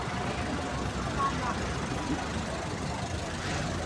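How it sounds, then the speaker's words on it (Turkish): Steady street traffic rumbles throughout, a continuous wash of passing cars and engine noise with no clear pauses. "Çok araba sesi var."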